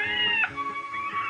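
A cartoon cat meows, a single drawn-out, bright cry with a sharp inflection midway, loud and close with no talking over it.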